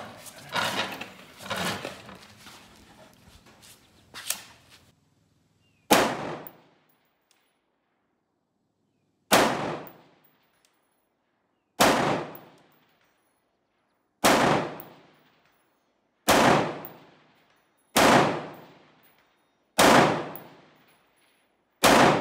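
Rifle gunfire from a SCAR and a Saint AR-15 with 10-inch and 16-inch barrels on an outdoor range at 300 yards: about ten loud, sharp single shots spaced a couple of seconds apart, each with a fading echo tail, after a few quicker cracks with faint voices.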